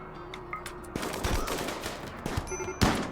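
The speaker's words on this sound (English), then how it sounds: "Fitz hit Pog with heavy SMG." Heavy SMG gunfire in the RimWorld video game, with a few short, fairly loud bursts of rapid shots over a busy game background.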